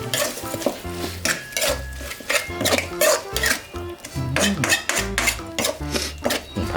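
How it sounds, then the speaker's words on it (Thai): A metal spatula scrapes and clanks repeatedly against a pan while field rat is stir-fried, with rhythmic close-up stirring strokes over a faint sizzle. "ผัดหนู"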